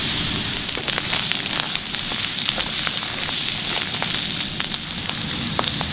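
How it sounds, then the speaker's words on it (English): Bamboo shoots frying in a pan over high heat, a loud steady sizzle with dense crackling pops running continuously and close, no talking. "I have the heat up pretty high. I'm gonna let this sit for at least 2 to 3 minutes to allow the bamboo shoots to brown a little bit."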